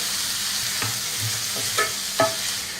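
Boiled green beans being sautéed and stirred in a pan for a South Indian beans poriyal, a soft steady sizzle broken by a few distinct scraping stirs of the spatula.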